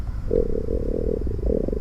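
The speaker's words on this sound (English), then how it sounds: "right on cue my stomach rumbles loudly" A low, gurgling stomach rumble from the horror visual novel The Letter, one drawn-out growl lasting under two seconds, close and fairly loud with no talk over it.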